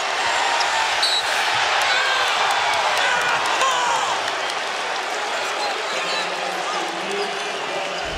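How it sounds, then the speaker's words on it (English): Arena crowd at a Duke vs Georgetown college basketball game roars steadily for the full stretch, a dense, loud wash of cheering with scattered ball bounces and a commentator talking over it. "here comes the crowd"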